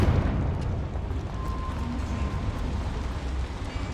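A deep, sustained rumbling blast from the Confringo explosion spell in the Hogwarts Legacy video game, inside a small mine, a dense roar holding steady at moderate loudness with no talk.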